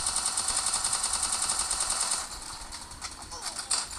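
Rapid automatic gunfire in the Free Fire video game, a dense continuous burst for about two seconds that then drops to scattered quieter shots, with players talking over it.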